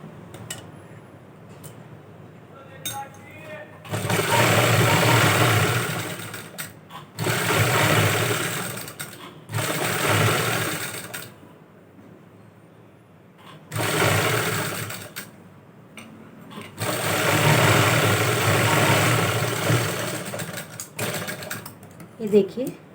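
A sewing machine stitches a kurti neckline in several loud, close, sustained runs separated by short quiet pauses, with a voice heard faintly in the gaps.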